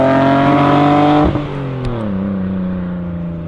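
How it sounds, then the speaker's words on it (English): A Toyota MR2 fitted with a new exhaust revs hard up close, a loud, rising engine note that peaks and then falls away as the revs drop, ending in a lower settling drone on an open road. "we're still getting some audio clips of the exhaust for you"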